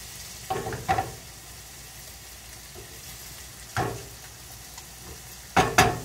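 Shrimp laid in a single layer frying in a pan, a soft steady sizzle with a few louder bursts of sputtering or pan contact, heard up close without talk.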